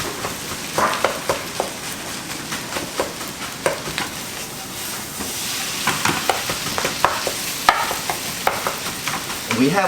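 Kimchi fried rice with sesame oil, garlic and scallion sizzles steadily in a pan, with repeated scraping stirs of a utensil against the pan heard close up.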